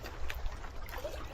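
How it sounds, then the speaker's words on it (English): Water flows in a stream, a faint, steady trickling and babbling heard close by with no voices over it. "Look at that, all that water."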